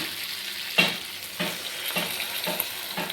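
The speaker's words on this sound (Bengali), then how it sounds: "এর মধ্যে আমি" Water going into a pan of frying tomato, onion and capsicum for soya chilli gravy: a sharp hiss bursts up, then steady sizzling continues with a few rhythmic stirring scrapes, close and moderately loud.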